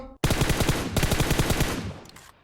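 Loud automatic gunfire in PUBG Mobile, set in a snowy winter map: one close, sustained burst of rapid shots after a brief silence, fading at the end, with no speech.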